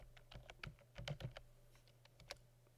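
Quick typing on a computer keyboard, a burst of light, close key clicks in an uneven rhythm that thin out to a few final taps over a steady low hum.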